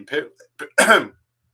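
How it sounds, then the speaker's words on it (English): A single short throaty cough or throat clearing, close and fairly loud, preceded by a couple of soft vocal sounds. "my cough is afflicting me"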